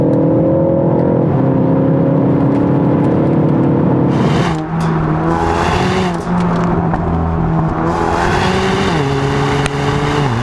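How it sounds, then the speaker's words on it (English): A Ford Focus ST engine revs and climbs through gears, the exhaust droning and rising in pitch with brief dips at each shift, loud and close. "You can hear a bit more exhaust now, which is nice."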